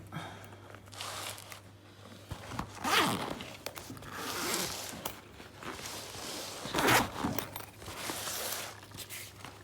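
Acrylic hookah being taken out of its packaging, with crinkly plastic rustles and scraping handling noises coming in bursts at close range, no talking.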